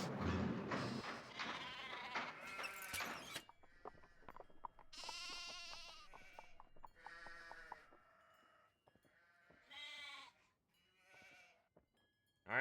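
A series of sheep bleats in a video game, wavering and nasal, repeating at irregular intervals, some loud and close, others softer, with a few dull thumps early on.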